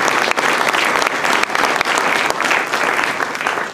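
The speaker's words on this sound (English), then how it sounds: "Give them a round of applause." Loud, dense applause from an audience thanking a panel after a community conversation about race, steady and unbroken from start to finish with no voices on top.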